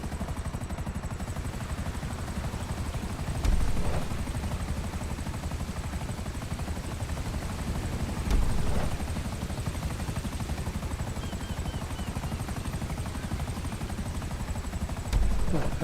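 Helicopter in the video game GTA 5 drones steadily throughout with a constant rotor hum, broken by three brief louder thumps spaced several seconds apart.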